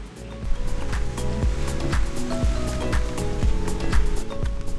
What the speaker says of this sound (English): Look at that angry ocean.